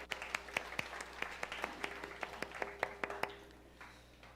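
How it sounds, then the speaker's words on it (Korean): A church youth congregation gives applause of praise, a small group clapping in a loose, fairly regular rhythm with distinct sharp claps that thin out and fade near the end. "한번 하나님께 영광의 박수 올리겠습니다."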